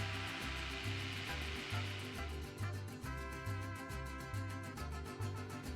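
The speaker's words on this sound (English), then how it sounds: "I split it up and blended it up in batches." A blender whirs steadily as it purees mole negro salsa with veggie stock, a continuous motor hum with a rhythmic chopping pulse, loud and close.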